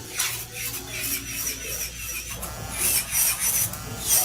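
Long acrylic nails being smoothed with a hand file, a steady close rasping and rubbing that runs through the whole stretch, growing brighter and scratchier near the end, with no talking.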